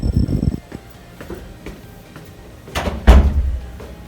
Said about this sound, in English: And into the authorized personnel only door.